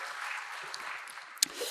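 A church congregation at a Sunday worship service claps to welcome visiting members from Bupyeong, Incheon, a faint, steady patter of applause with scattered sharper claps and no talking.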